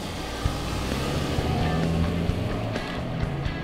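A 2019 Nissan Altima Platinum AWD with the 2.5-liter engine being driven gives a steady, broad road and engine rumble that stays even throughout, with no talking.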